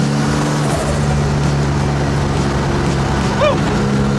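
A loud rear-wheel-drive Evo race car engine drones steadily at close range on a street, a deep rumble with a brief rising whine near the end.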